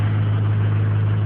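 A 2001 car engine idles after a cold start, giving a loud, steady, smooth low hum with no voices.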